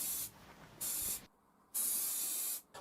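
Three bursts of hissing from a spray gun applying high build primer to a model flamethrower kit, each a second or less, separated by brief quiet gaps, close and loud.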